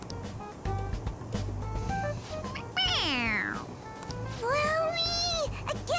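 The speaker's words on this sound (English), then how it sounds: "It's a stuffed animal. Yeah, it's just a toy. It meows when you press on its head." A stuffed toy cat in the game Persona 5 Royal lets out two drawn-out, sliding meows when its head is pressed, loud and close over a steady low background hum.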